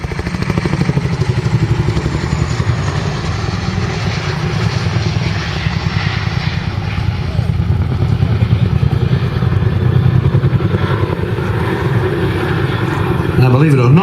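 A Chinook twin-rotor helicopter banks through an airshow display turn, its heavy rotor thumping and engine roar loud and continuous for the whole stretch.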